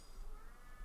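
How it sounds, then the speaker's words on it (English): A loud pet cat meows and yowls continuously at close range through a short indoor moment, with no talking. "my cat is so loud"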